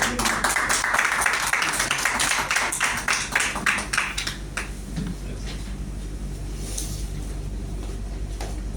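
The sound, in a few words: audience applause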